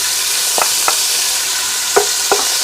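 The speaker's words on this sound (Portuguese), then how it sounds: "A panela está bastante quente. Por isso é que nós estamos tendo os estalinhos, mas logo vai normalizar." Bacon frying in a very hot pan, with a steady broadband sizzle and a few sharp pops and crackles scattered through it, close by and with no talking.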